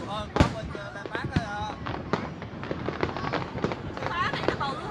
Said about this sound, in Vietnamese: Pháo bên Thủ Thiêm nó tỏa nhiều hơn